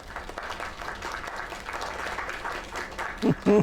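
Crowd applause and cheering fill the space steadily, with a couple of louder bursts near the end.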